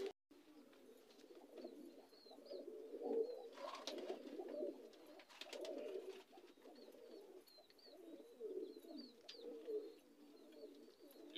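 Racing pigeons coo softly and repeatedly, low throaty calls rising and falling throughout at a modest distance, with faint chirps above them.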